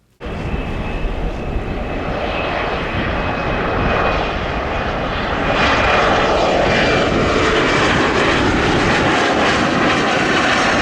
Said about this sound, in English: one of the crappy regional jet CRJ-7s working for American Eagle